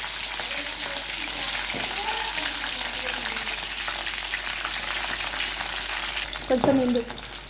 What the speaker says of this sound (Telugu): తర్వాత జీలకర్ర, ఆవాలు, జీలకర్ర కొంచెం వేగాక కొన్ని పచ్చిమిర్చి వేయాలి